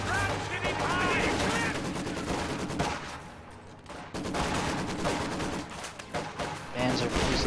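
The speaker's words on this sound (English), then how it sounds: "Enemy fire! They've opened up on us!" Sustained gunfire and machine-gun bursts from a Company of Heroes 2 World War II battle, loud and continuous with dense overlapping shots, a brief lull midway, and voiced soldier callouts mixed in.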